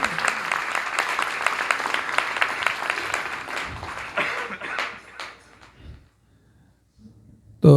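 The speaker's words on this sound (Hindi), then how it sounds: "पुनः आप सबके लिए तालियों से उनका अभिनंदन करें।" Applause from an audience after singers finish a devotional song at a spiritual discourse, dense clapping for about five seconds that thins out and fades into quiet.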